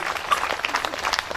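Audience applause at a Ram Katha religious discourse gathering in Limgaon, Saraipali, welcoming a host family; a dense, steady patter of many hands clapping throughout, fairly close and sustained.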